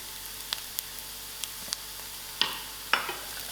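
A cinnamon stick and curry leaves fry with browned onions in a pan for lamb chops, giving a low even sizzle with scattered crisp pops and two louder spitting bursts near the end.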